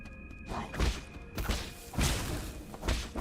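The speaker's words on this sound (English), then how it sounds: "The explosions are bigger than I give them credit for" Enemy bomb explosions in the Nine Sols video game, a series of heavy booming thuds and crashes, about four bursts spaced unevenly across the moment, loud and close with no talking.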